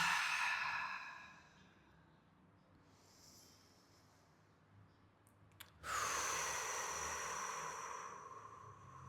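Slow, deep breaths in mountain pose during a yoga session: a long audible exhale, a quiet pause, then another strong breath, close and alone.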